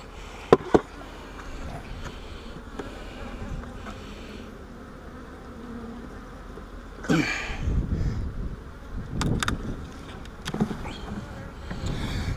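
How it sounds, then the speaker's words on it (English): Honeybees buzz steadily inside an opened hive during an inspection, a close, continuous drone with a few brief handling knocks early on and louder rustling bursts later. "there's more bees in here than there was last time"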